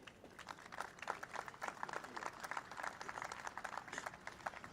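An audience applauds alderman Bob Bauman at a public event, a faint, distant wash of many hands clapping that stays steady without voices.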